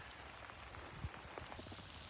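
Rain falls faintly and steadily as a low, diffuse patter out in the open, with scattered drops tapping nearby and no voices.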